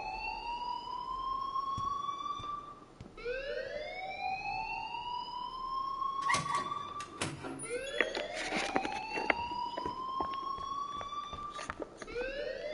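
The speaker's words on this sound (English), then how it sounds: "please turn off that alarm since that's your job" A shrill electronic alarm wails in repeated rising sweeps, each lasting a few seconds, loud and continuous over a low background rumble with occasional clatter.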